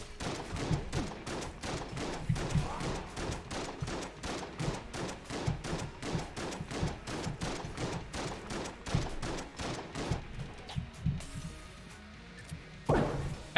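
Rapid gunfire inside the shop in the game Enter the Gungeon, a long run of evenly spaced shots that stops briefly near the end before one last burst, with no talk.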